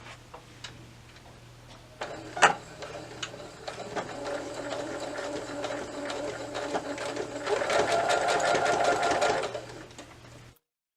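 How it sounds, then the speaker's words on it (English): A sewing machine stitching down the side seams of a garment, a steady rapid mechanical chatter that builds in speed and loudness toward the end before stopping abruptly, close by and uninterrupted by talk. "Now I'm going to sew down each side seam."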